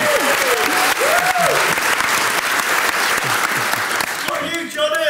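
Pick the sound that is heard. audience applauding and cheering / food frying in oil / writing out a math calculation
audience applauding and cheering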